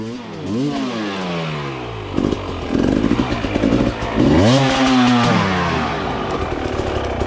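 A motorcycle engine revs and drops on a single-track trail, loud and near throughout, with rising and falling pitch sweeps as the rider throttles over rough ground and some clatter.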